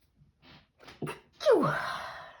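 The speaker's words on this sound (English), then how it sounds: "I sneeze." A single close sneeze at a craft table where someone is working on a junk journal, with a couple of short breathy intakes before the loud burst and a trailing vocal tail.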